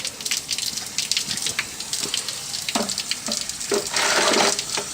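Water from an upstairs bath drains through household plumbing in a steady loud gushing rush, with a few gurgling pulses and a surge toward the end.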